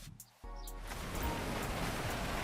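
Heavy rain in the video game GTA V is a steady, dense hiss that swells in after a brief quieter moment and holds evenly, with no talking.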